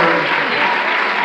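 Audience applause for award winners at a teachers' union event in a New York hotel ballroom, a dense steady wash of clapping filling the room throughout.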